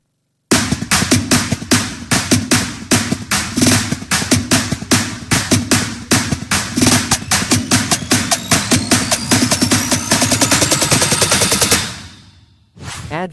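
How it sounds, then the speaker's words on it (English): Snare drum build-up in an FL Studio EDM track: rapid, loud, dense snare hits rolling continuously with a rising pitched sweep, accelerating toward the end before a short drop-out. "Add a snare build up."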